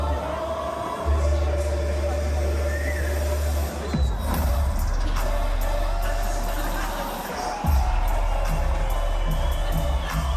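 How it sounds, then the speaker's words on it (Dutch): Large crowd cheering and whooping inside Rotterdam's Ahoy arena at the reveal of the Odido brand name, a dense continuous roar with brief dips around four and seven and a half seconds before swelling again. "dit is typisch het gejuich van mensen die denken... jee, zijn dat letters?"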